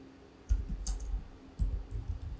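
Typing on a computer keyboard: two short bursts of soft, close key clicks over a low background hum, with no talking.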